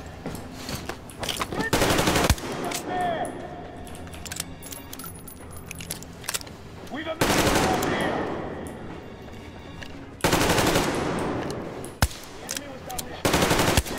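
Bursts of automatic gunfire in Metro Exodus, set in Moscow, come in several loud sustained rattles of a few seconds each over game ambience, interspersed with clicks and metallic clatter.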